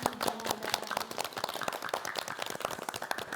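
Audience applause for members of the Korean Tea Culture Association Jeonbuk branch on a morning TV talk show, a dense, steady patter of many hands clapping that runs evenly throughout at moderate level.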